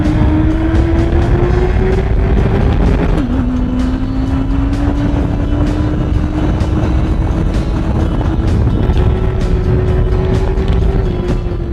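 A motorbike on a race track holds a steady, loud engine note that rises as it accelerates toward the first corner during a wheelie attempt, with a brief dip early on and constant wind rush over the microphone.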